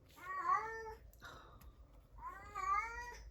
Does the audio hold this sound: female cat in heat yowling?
yes